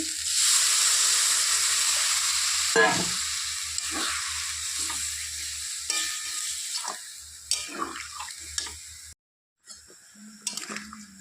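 Katla fish is stirred in a mustard and cashew gravy in a pan, a soft bubbling sizzle with intermittent scraping and stirring clatters, close and moderately quiet, with a brief gap near the end.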